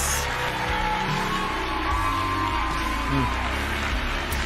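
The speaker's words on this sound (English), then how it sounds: "I think you guys deserve a round of applause." Live retro gaming stream crowd breaks into applause and cheering, with whoops and scattered voices mixing over steady clapping at moderate loudness.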